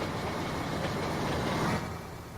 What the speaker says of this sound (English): That's a big long coal train.